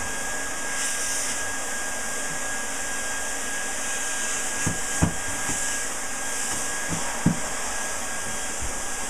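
A heat gun blows hot air steadily onto thick floor tile, a loud constant close whooshing hiss that runs throughout, with a few faint knocks and taps partway through.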